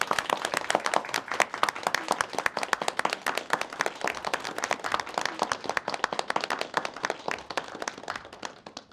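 Audience applause at a gathering in a Chinese Communist Party legal education setting, dense steady clapping from many hands filling the room for several seconds before tapering off, with no talk over it.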